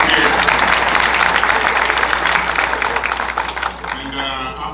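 Loud applause fills a room at a healthcare breakfast event as a speaker is welcomed, dense clapping that tapers off over the final second as a voice begins.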